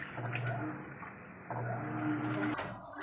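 Panasonic NA-F70S washing machine draining water after a wash cycle during testing, a steady low hum with a gurgling wash of water that pauses briefly midway and then resumes, ending with a shift in tone.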